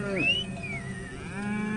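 A cow moos in a long, drawn-out call, part of a cattle herd grazed by Maasai herdsmen outside an African park, with a lower voice starting near the end in open outdoor air.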